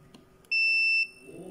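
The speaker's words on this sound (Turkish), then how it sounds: "Bip dedi ve sesini kesti arkadaşlar." A multimeter gives a single loud, high steady beep lasting about half a second when its probes touch a capacitor on a Logitech S-220 speaker system amplifier board with a faulty bass output.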